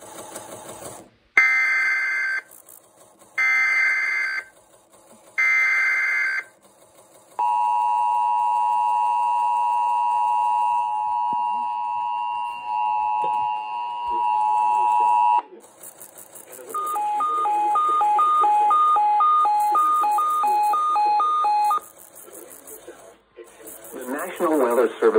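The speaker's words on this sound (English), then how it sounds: "This station will broadcast severe weather alarm tones" A broadcast plays a series of severe weather alert tones for a severe thunderstorm watch: repeated short beeps, then a long sustained two-tone blast, then rapid pulsing tones.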